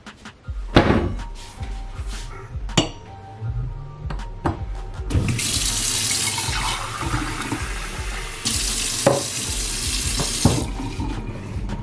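Hot water from a boiler-fed tap in an Amsterdam kitchen runs straight into a cup for green tea, a steady close rushing stream lasting several seconds, preceded by a few sharp knocks and clunks.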